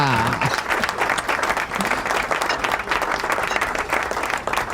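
Audience applause at an event about organ donation, a dense continuous clapping wash from a crowd, moderately close, with faint voices mixed underneath.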